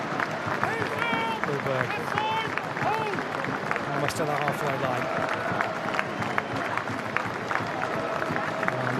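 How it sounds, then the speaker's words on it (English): Wakefield rugby league fans in a stadium give a sustained round of applause, a steady distant wash of clapping and crowd noise running under a commentator's voice throughout. "the Wakefield fans having a minute's round of applause in remembrance of a young fan"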